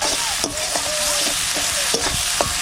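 Spice paste of chili, cumin, turmeric and salt being stirred and fried in a pan, a steady bright sizzle broken by repeated scraping strokes of the spoon, close and continuous with no talk.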